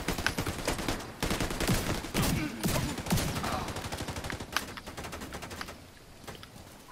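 Dense bursts of gunfire crackle through a video game manhunt match, with distant sniper shots mixed into rapid overlapping volleys that later thin out, ending in a single sharp crack.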